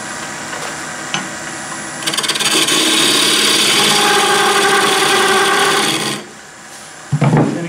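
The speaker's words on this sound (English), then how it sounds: "So I'll cut that tenon right now." A wood lathe spins a closed-form turning while a tool cuts a tenon, a loud sustained rasping scrape that starts after a couple of seconds of quieter spinning, holds steady, then eases off before a few short knocks.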